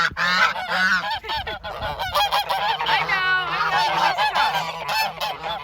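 Domestic ducks call close by in a dense chorus of overlapping honks and quacks, loud and continuous, with a brief spoken remark mixed in.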